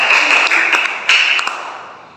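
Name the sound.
classroom applause for group 2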